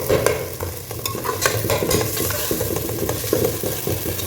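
Ginger and garlic sauté for biryani in a hot pan, with a loud close sizzle of frying and a spoon scraping and stirring against the metal at irregular moments, and no voices.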